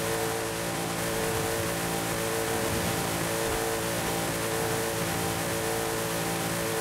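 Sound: Rossion Q1 car engine accelerating in video game Forza Horizon 5

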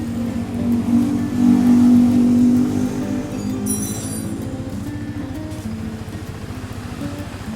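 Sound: Yamaha YZF R15 2017 motorcycle engine revving

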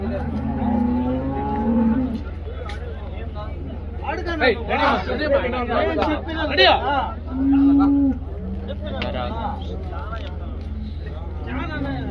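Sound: cattle at cattle market

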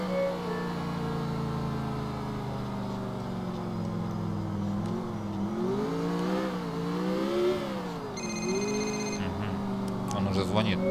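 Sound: phone ringing in the video game GTA IV

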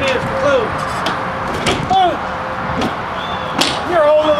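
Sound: toy hauler patio door slamming closed

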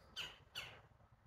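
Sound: birds chirping outdoors

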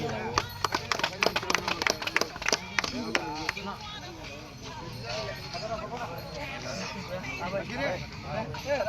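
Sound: audience clapping for winners

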